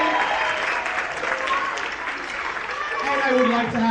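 An audience at a school end-of-year band presentation applauds steadily, a dense wash of clapping that holds throughout and swells slightly toward the end, with voices mixed in beneath.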